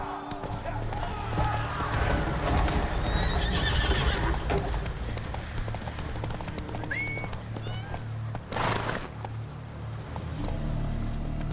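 Geralt's horse Roach gallops in The Witcher 3: Wild Hunt, with loud rapid hoofbeats, a whinny, and game music and effects layered over the running throughout.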